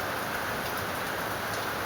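Heavy monsoon rain pouring down in the morning, a dense, steady hiss with no pauses or talk, fairly quiet overall.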